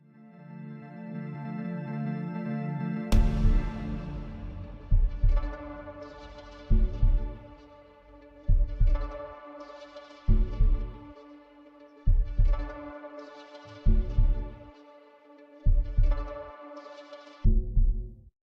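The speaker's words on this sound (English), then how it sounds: "There's only the bass and the heartbeat right now going." Heartbeat sample looping over a synth bass in an FL Studio remix, with a sustained low bass drone before a steady, loud double-thump heartbeat enters and repeats at regular intervals, standing alone without talk.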